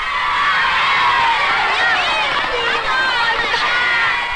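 A loud, steady roar of Blue House supporters cheering at a race, children's voices shouting and whooping over one another without a break.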